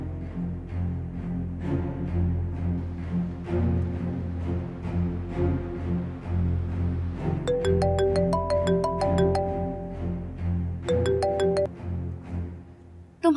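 A phone rings with a repeating electronic melodic ringtone in two short bursts, layered over a background music score with a low steady drone, indoors and moderately loud.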